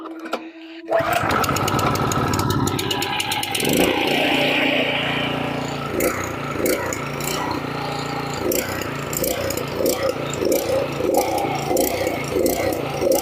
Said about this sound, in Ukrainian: Щось він нерівно працює. Так, завіс... завестися він завівся, це вже дуже добре.